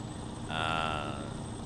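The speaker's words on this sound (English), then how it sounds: "there are cows that are wandering across" A cow moos once by the road in the American Truck Simulator video game, set in Australia: a single drawn-out, moderately loud low call lasting under a second over steady engine hum.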